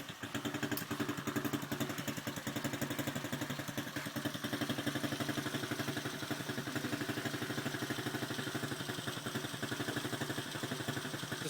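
TDR pit bike engine idling after an electric start, a close, steady rapid putter with a mechanical clatter, holding an even rhythm throughout with no voices.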